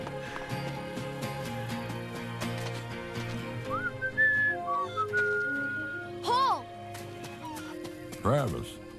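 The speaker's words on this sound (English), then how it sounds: "I heard your whistle." Someone whistles for a pet ox, with rising and falling whistled notes over a steady background bed and bird-like chirps, ending in a few sharp sweeping tones.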